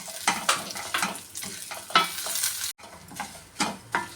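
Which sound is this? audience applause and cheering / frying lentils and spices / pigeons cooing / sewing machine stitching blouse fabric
frying lentils and spices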